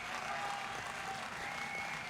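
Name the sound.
applause in Hogwarts Legacy video game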